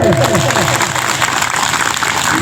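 Audience applause at a Sarna prayer gathering in Lundri, Chanho, a dense, loud burst of clapping that runs throughout, with a voice speaking over it near the start.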